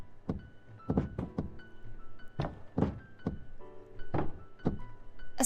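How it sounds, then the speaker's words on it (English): Heavy thumps sound one after another in a ballroom scene of the game Moonflower, each a separate dull booming hit at an uneven pace, fairly close and loud, with no voices. "the continuous thumping sound vibrated through the ballroom"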